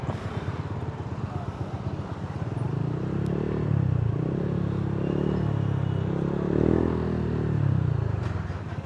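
A motorcycle with an open exhaust pipe idles and revs in steady low rumbling pulses, close by, with the exhaust note rising and falling over several seconds.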